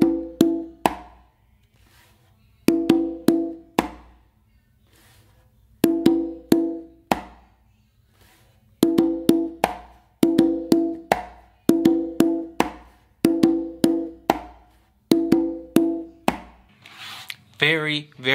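An easy funk groove is played by hand on a drum, with tight clusters of ringing open tones and sharp slaps that repeat every few seconds. It sounds close and steady, with no talk, and ends in a brief odd tail.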